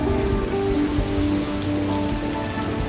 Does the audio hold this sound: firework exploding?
no